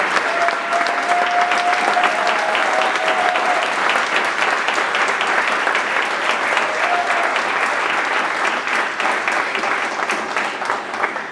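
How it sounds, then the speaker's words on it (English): Audience at a sales panel event applauding panelists, dense sustained clapping filling the room at close range, steady throughout with a slight fade near the end. "So just another quick round of applause for amazing panelists."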